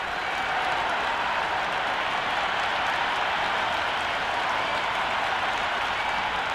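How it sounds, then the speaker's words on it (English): Dense stadium crowd roar with scattered applause at an IPL cricket match in the video game Cricket 26 on PS5, a constant loud wash of noise that never lets up. "already the crowd making a hell of a racket"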